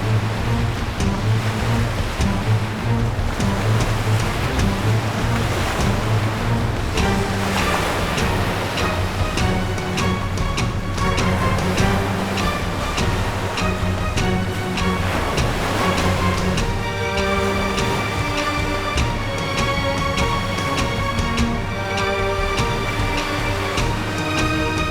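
Flood water surges over the fairy realm Pari Lok, a continuous loud rushing roar like crashing surf, with music layered over it throughout and no speech.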